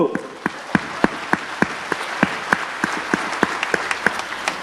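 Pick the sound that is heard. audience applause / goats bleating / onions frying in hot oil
audience applause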